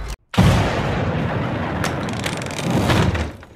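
An explosive barrel blowing up in the video game Enemy Front, a sudden loud boom followed by a long, rumbling roar that lingers and fades over several seconds.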